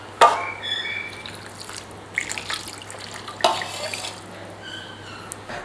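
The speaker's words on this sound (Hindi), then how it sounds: "और आधा गिलास पानी के शामिल करेंगे इसमें।" Half a glass of water is poured into a cooking pot holding meat and ghee, giving a few splashy pours and drips, close and moderately loud, with gaps of quieter trickling between them.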